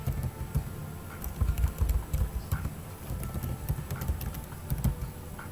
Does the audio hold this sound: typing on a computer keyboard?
yes